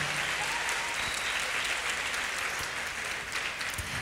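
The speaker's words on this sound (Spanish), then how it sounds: "Dale ese aplauso fuerte al que nos ha justificado." A church congregation claps loudly and steadily during a sermon service, a full, dense burst of applause filling the room without talk over it.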